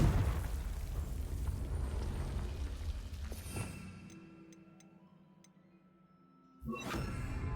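A Confringo spell explosion in Hogwarts Legacy: a loud rumbling blast that fades over a few seconds into quiet ticking, then a second sharp burst near the end.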